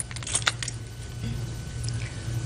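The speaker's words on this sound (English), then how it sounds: "The exchanging of the keys." Truck keys jangle and clink as they are handed over in a courtroom, a light metallic rattle with a few brief clicks over a low steady hum.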